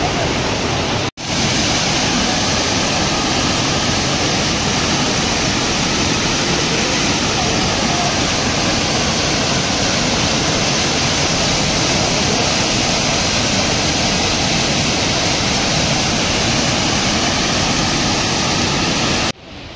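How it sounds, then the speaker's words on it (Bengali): Water pours down the rocks at the Rock Garden in Darjeeling, a loud, unbroken rush that fills the whole stretch without pause. "এই জলটাই এখান দিয়ে নামছে, নেমে এই দিক দিয়ে যাচ্ছে"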